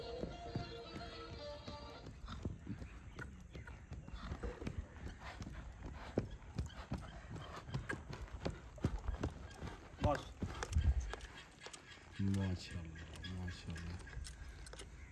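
A horse walking its gait in a show of a prized Sodagar horse, with steady clip-clop hoofbeats close by, mixed with jangling tack, someone talking over the hooves throughout and brief musical tones.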